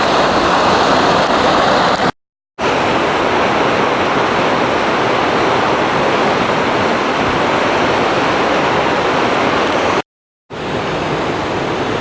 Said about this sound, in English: This is the water coming down from the ice lake.